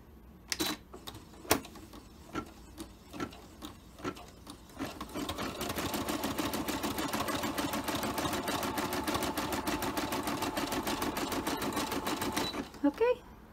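A Brother embroidery machine stitching an applique starts with a few separate needle thumps, then settles into a fast, steady, rhythmic clatter of stitching that runs loud and even before stopping abruptly.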